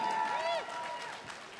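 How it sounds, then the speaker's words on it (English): Audience applause fills a BlizzCon 2011 convention hall panel, a dense mid-level wash of clapping that swells early and tapers slightly, with a voice and tonal sound layered over it. "Round of applause for Backstage Dude"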